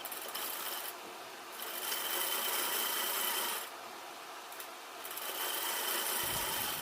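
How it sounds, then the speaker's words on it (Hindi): A sewing machine stitching lining onto suit fabric, a steady raspy mechanical whirr that swells in several louder runs over continuous background noise. "और साइड में 1/2 इंच का मार्जिन छोड़ते हुए सिलाई।"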